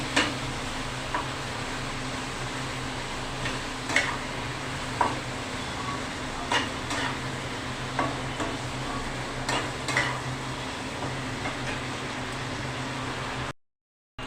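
A spatula scraping and stirring turmeric and spices in a frying pan, soft steady sizzle with occasional sharp clinks of metal on the pan, close and fairly quiet, no talking, ending abruptly in silence.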